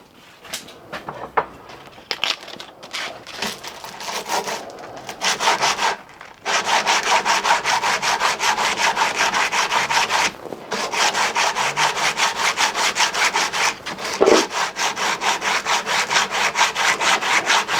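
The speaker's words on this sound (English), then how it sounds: "There's a little touch of the hand scrape. I'll sort that out." Rapid rhythmic rasping strokes of a hand scraper working a welded two-stroke engine barrel, sparse at first, then a long fast run of strokes close up.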